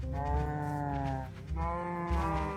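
Cattle mooing in the video game Minecraft, several long drawn-out moos in succession, loud and close, with no talking over them.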